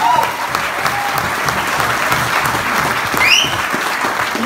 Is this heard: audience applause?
yes